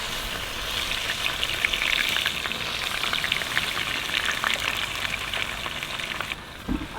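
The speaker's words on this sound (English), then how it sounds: "they like spitting, especially when you're shallow frying them like I am" Squid shallow-fries on a barbecue with a dense, steady sizzle and scattered sharp spits and pops, heard up close before it briefly quietens at the end.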